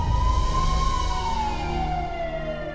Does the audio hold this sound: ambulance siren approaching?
yes